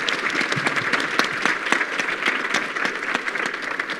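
Audience applause at a summit celebrating America's hog farmers, a steady dense clapping from a crowd held at an even level throughout.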